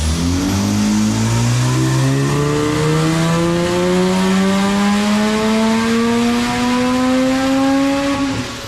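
Mazda RX-7 FD with a new manifold and reworked boost control revs hard at a drag strip, the engine note climbing steadily in pitch through one long, loud pull before easing off at the end.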